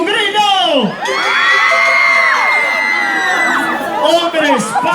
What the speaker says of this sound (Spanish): Las chicas, un grito.